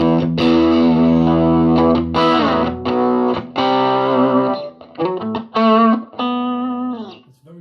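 Distorted electric guitar plays through a Marshall DSL1CR amp on the bridge pickup, giving a raspy, bluesy classic rock tone in loud chords and bent single notes with brief gaps.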